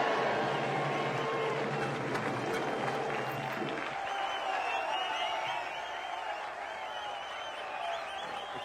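A cinema audience at a screening of NTR Kathanayakudu whistles and cheers in a loud, continuous crowd roar. The noise is dense for the first few seconds, then eases to a slightly quieter din.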